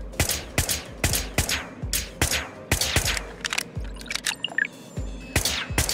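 Repeated gunshots fire in the video game Whispers of a Machine. The sharp bursts come in an irregular rapid series over a steady background, with a few fainter clicks between the shots.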